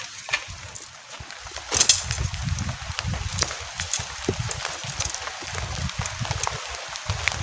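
Heavy storm rain drums unevenly on a camping shelter overhead, with sharp tapping drops and a louder burst of patter near the start.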